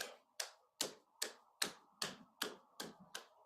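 Palms clapping together in a yoga class, about nine crisp, evenly spaced claps in a steady rhythm, close and fairly quiet with nobody talking.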